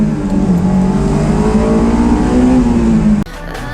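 A 2004 Honda S2000 engine revs steadily near and loud, its tone climbing slightly over about three seconds before cutting off abruptly to a quieter idle.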